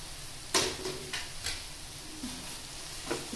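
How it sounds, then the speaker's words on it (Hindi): Maggi noodles being stirred with spices in a hot pan, giving a soft frying sizzle broken by a few sharp scrapes and clinks of the spoon against the pan. "इस नूडल्स को अच्छे से मसालों के साथ मिक्स करना है"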